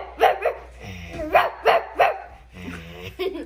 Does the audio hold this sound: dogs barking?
yes